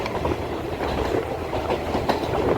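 Radhikapur–Sealdah DEMU local train running, heard from on board as a steady loud rumble with rhythmic clickety-clack of wheels over rail joints, no speech.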